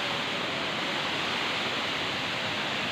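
Sita Kund waterfall in Baripada pours down in a steady, dense roar of rushing water, loud and unbroken throughout with no voices.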